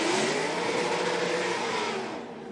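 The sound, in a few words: drift car engine revving on track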